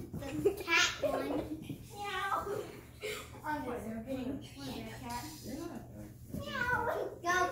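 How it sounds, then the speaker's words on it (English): Cat meowing indoors in brief rising calls amid near-continuous child chatter, with the cat's voice partly masked by the talking. "And this is Mary Ann, the cat one."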